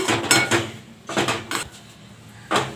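Semolina dough stirred with hot water and a little ghee in a plain iron kadai, giving repeated scraping and clinking strokes of a metal spoon against the pan in bursts with short pauses.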